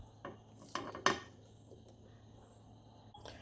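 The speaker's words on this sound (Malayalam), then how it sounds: "ഈ ബീട്രൂട്ട് ഇവിടെ ഗ്രേറ്റ് ചെയ്തെടുത്തിട്ടുണ്ട്. ഇത് നമുക്കൊരു ചട്ടിയിലേക്ക് ഇട്ട് കൊടുക്കാം." Grated beetroot tipped into a cooking pan for Onam beetroot pachadi, with a few quiet clinks and scrapes of a utensil against the pan early on, then near silence.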